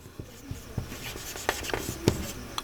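Pen or pencil writing out a Class 8 math solution by hand, with faint scratchy strokes and short taps at irregular intervals, quiet and close, with no talking.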